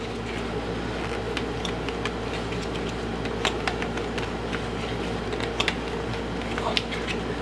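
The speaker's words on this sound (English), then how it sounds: "going to go ahead and try to manually move this again by turning the flywheel." Manual turning of the seized engine's flywheel on a Murray riding mower: scattered light clicks, creaks and ratchet-like ticks, close and fairly quiet over a steady low hum, irregular across the whole stretch.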